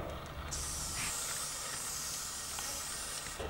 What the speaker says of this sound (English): grab your can of WD-40 multi-use product from the shed and give it a really generous spray